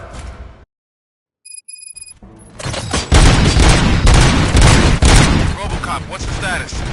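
Gunfire in the Robocop: Rogue City video game, a dense sustained barrage of loud shots and booms that erupts after a brief near-silent gap and keeps going without pause.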